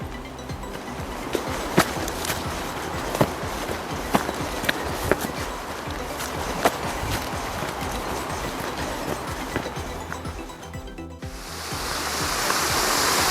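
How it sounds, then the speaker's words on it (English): Juney Whank Falls, a waterfall beside the Deep Creek horse trail in the Smoky Mountains, makes a steady broadband rush of water with scattered crunchy footstep-like knocks. The hiss swells brighter and louder near the end, and nobody speaks. "All right, this is Juney Whank Falls."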